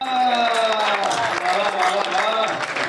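Audience applause at a Hindi comic poetry gathering, a dense crowd clapping throughout for a poet introduced on stage, mixed with tonal voices or music lines running through the clapping.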